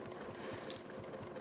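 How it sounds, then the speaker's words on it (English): A model 720 sewing machine runs with a steady, rapid mechanical whir and a fine ticking rhythm, heard faintly and alone for a moment. "Oh yeah, the sewing machine that Angie's using, the 720"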